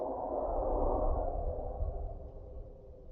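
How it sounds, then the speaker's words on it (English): A deep, rumbling Leviathan creature roar in the underwater game Subnautica swells and then slowly fades, low and distant-sounding, with no speech over it. "That was a Leviathan noise."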